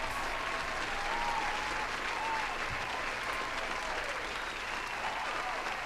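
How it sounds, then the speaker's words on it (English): A round of applause from a crowd, steady and continuous clapping at a moderate distance without talk. "I'll give you another round of applause"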